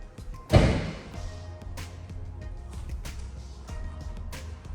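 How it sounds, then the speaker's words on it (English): A single heavy thud as the tailgate of a 2022 Ford Expedition Limited SUV is shut, followed by faint background rumble and a few light taps. "I'll just put that tailgate down"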